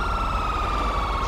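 A police siren wails in the Crime Scene Unit game mod, a steady electronic tone with rapid warbling, loud and continuous under a low background rumble, with no talking.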